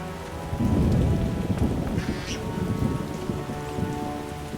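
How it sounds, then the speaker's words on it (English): Heavy rain pours steadily in The Witcher 3, a dense, continuous wash of drops with faint rumbles of thunder, loud and close throughout, with no voices. "It rains and it pours."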